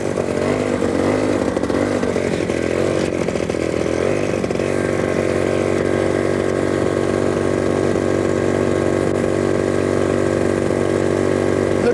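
DEFI 210 paramotor engine idles steadily while warming up, a loud, close, continuous buzzing drone with a slight waver early on, then holding an even pitch throughout.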